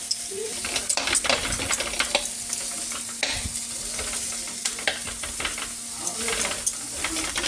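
Butter sizzling in a pan as ingredients fry toward golden brown for drumstick soup, a steady close hiss broken by frequent scraping stir strokes, no talk.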